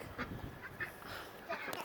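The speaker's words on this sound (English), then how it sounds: "Yeah, Lindsay, can your ducks fly?" Ducks on a farm giving several short honking quacks close by, with faint voices behind them.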